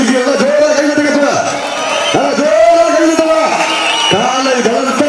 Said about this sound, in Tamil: பசங்க ஆரவாரம் பண்ணுறாங்க